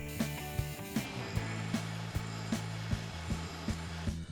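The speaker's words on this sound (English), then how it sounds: "On the grinder, I'm using a 60 grit belt to round off any of the sharp cuts that came from the bandsaw." A belt grinder running a 60 grit belt smooths and rounds the bandsaw-cut edges of a knife made from 1084 steel. Its loud, steady motor whine carries regular rhythmic thumps and scraping contact throughout.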